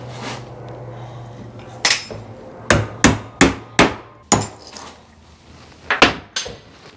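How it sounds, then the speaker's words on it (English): A hammer knocking a roll pin out of a supercharger gear gives about nine sharp metallic strikes, some in quick succession and others spaced apart, loud and close over a faint background hum. "We're going to knock the roll pin out, take the gear out"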